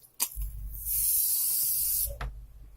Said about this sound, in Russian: Теперь добавляем, стряхиваем пену для бритья и добавляем.